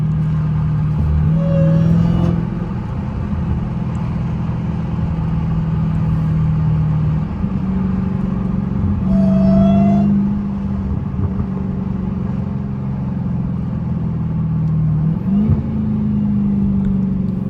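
A Dodge Hellcat's V8 engine heard from inside the car while driving, holding a steady loud rumble with a few revs that rise and fall, and a faint whine audible as the revs drop.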